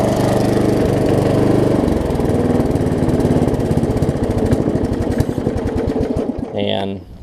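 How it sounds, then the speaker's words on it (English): Petrol lawn mower engine, an old well-used machine, running close and loud with a rapid chugging throb that drops toward a slower putter and cuts out near the end. "it ain't the prettiest mower, but it does the job"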